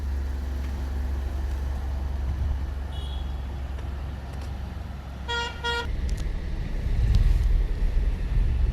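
A manual car on a driving lesson in hilly country eases off slowly in first gear, its low engine rumble steady under wind noise, with a short double horn toot from nearby traffic midway.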